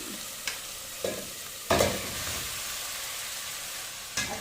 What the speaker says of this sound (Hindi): अच्छा भूनेंगे चिकन को।